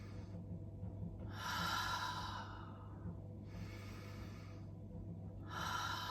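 A person breathing slowly and audibly during a breathing exercise, three long airy inhales and exhales spaced a few seconds apart, close and fairly soft over a low hum.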